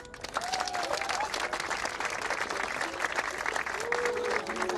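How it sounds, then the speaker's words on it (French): A crowd at a Polynesian Heiva dance performance claps for itself in sustained, dense applause, while a few voices call out faintly over it. "Ce soir, vous pouvez vous applaudir."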